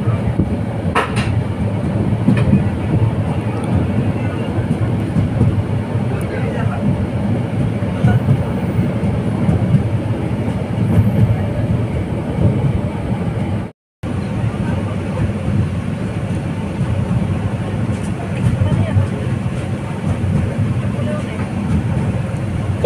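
Cox's Bazar Express passenger train from Dhaka to Cox's Bazar, heard from inside the carriage with the window open: a steady, loud rolling rumble throughout, broken by a brief silent gap near the middle.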